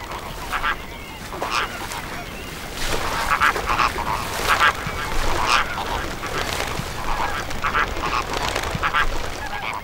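A large flock of flamingos calls in a brackish mangrove swamp, with repeated goose-like honks and nasal squawks overlapping in a busy, moderately near chorus above a steady background hiss.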